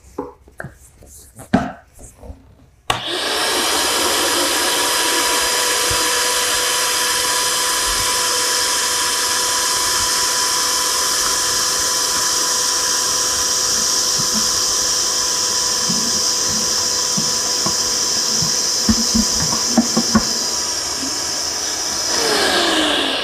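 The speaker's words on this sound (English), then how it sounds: "what the shop vac looks like after sucking up a few gallons of sawdust" A high-speed cyclone dust collector shop vacuum runs continuously at a steady loud whine after starting abruptly, with a few small knocks and rattles as sawdust is drawn in.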